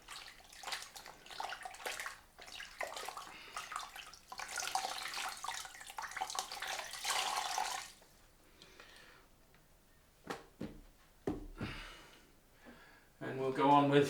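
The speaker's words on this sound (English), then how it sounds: "I've now pretty much filled the cloth, so I just rinse that out in the bowl." A shaving cloth being rinsed out in a bowl of water, with splashing and sloshing in bursts, then quieter drips and handling noises near the end.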